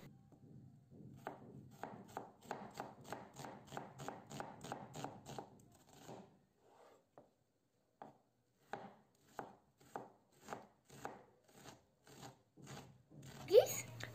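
A knife chops half an onion on a board in quick, rhythmic, close cuts that pause briefly and then resume in a second run of strokes.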